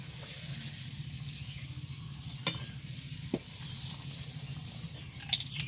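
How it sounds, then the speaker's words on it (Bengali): Fuchka (panipuri) dough frying in hot, smoking oil, a soft continuous bubbling sizzle with a couple of brief sharp clicks, faint and close. "তেল গরম হয়েছে, তেল দিয়ে ধোয়া উঠছে। এবার ফুচকাটা দিয়ে দিব।"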